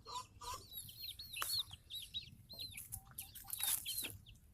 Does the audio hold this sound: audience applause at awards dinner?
no